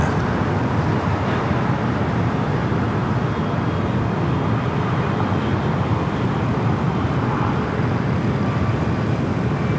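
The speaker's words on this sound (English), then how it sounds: "The 767 rolling down 25 left, heading to Memphis, flight 1234." A Boeing 767 jet rolls down runway 25 left at LAX on its takeoff run. Its steady, loud, broadband roar holds for the whole stretch, with no talking over it.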